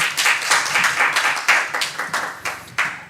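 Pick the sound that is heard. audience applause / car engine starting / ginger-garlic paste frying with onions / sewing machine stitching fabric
audience applause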